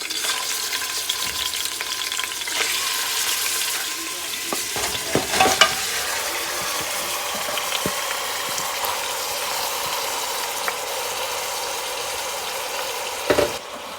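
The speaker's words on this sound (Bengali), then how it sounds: "দারচিনি, এলাচ, লং, এই সবগুলি আমি মোটামুটি দিয়ে একটু ভেজে নিচ্ছি।" Whole cinnamon, cardamom and cloves fry in a pressure cooker, giving a steady close crackling sizzle throughout, with a few sharp clinks of stirring around midway and near the end.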